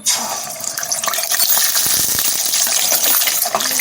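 Beaten egg is poured into hot oil, setting off a loud rushing sizzle that swells and keeps crackling steadily.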